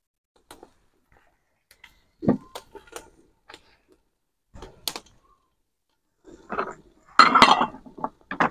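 Lid set onto a cooking pot for a meat and pumpkin tagine cooked over a wood fire, giving a few sharp metallic clinks and taps spread over several seconds, with a louder clattering burst near the end.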